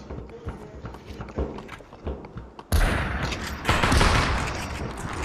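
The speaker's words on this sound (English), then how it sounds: "Look, he's getting shot at." Gunfire rattles in the VR battle game Population: One, starting as scattered sharp shots and then growing into louder, denser bursts of rapid fire close by.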